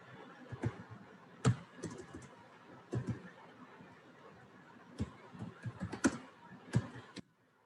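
Someone types a SQL join query on a computer keyboard, with soft irregular key taps and occasional sharper clacks, close and quiet.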